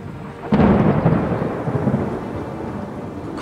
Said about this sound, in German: Wir suchen Schutz vor dem Unwetter im alten Jägerstrand.